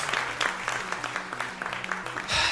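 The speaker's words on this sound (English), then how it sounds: "I will clap for myself." One person claps their hands in a short run of quick, close claps, loud and near over a low background tone.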